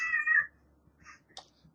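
A house cat gives one drawn-out meow at the start, close and fairly loud, followed by a few softer chirps and small rustles in an otherwise quiet room.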